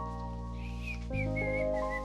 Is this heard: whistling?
yes